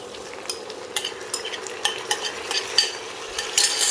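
Marinated chicken with onions in Chettinad-style uppu kari is stirred and fried in a pan, a close, crisp sizzle broken by frequent scraping stirs in an uneven rhythm.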